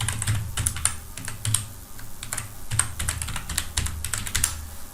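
Fingers rattle out an email address on a computer keyboard, a close, brisk stream of clicky keystrokes in quick irregular bursts with short pauses between.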